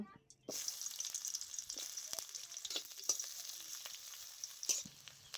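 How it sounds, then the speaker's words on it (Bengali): Onion sizzles steadily in hot oil in a wok, a soft continuous frying hiss with small crackles and the odd stir, fairly quiet and heard alone. "অল্প পেঁয়াজ ভেজে নেব"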